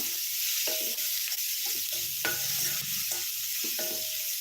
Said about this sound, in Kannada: ಟೊಮೆಟೊ ಚೆನ್ನಾಗಿ ಸ್ಮ್ಯಾಶ್ ಆಗೋವರೆಗೂ ನಾವು ಫ್ರೈ ಮಾಡ್ಕೊಳ್ಳೋಣ